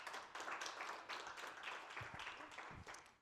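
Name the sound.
studio audience applauding guests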